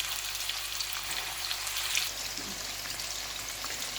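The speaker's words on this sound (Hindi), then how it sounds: "अच्छे से फ्राई करना है इसको।" Chicken pieces for honey chilli chicken frying in hot oil, giving a steady, soft crackling sizzle with scattered pops, moderately faint and continuous with no talking.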